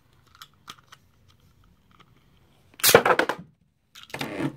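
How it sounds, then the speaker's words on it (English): Meteo L-Drago Beyblade fired from its launcher, a sharp close snap followed by a burst of rattling clatter, then a second scraping rush as the top spins, with near silence before. "I'll try the launcher for L-Drago again."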